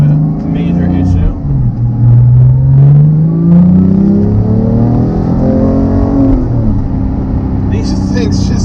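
A 2018 Porsche 911 991.2 GT3 with manual gearbox revs hard from inside the cabin, its loud engine note climbing through gears in rising sweeps before easing off, with a voice talking briefly over it.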